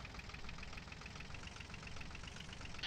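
Tractor engine idling in the Farming Simulator 2013 video game, a steady low rumble with a faint regular knocking pulse running throughout, loud and close, with no talk over it.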